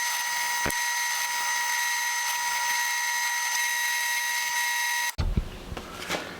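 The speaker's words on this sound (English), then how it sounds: "So I'm going to do mine on a drill press so I can set the depth stop." A drill press runs with a steady, loud mechanical whine while drilling holes in wood for a shop bit holder, then cuts off abruptly near the end, followed by brief clatter and handling noises.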